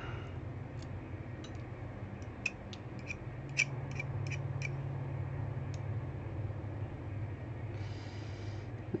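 Pair of scissors with resin stuck on the blades, giving a run of faint, sharp snips and clicks in quick succession over a steady low background hum, with no talk.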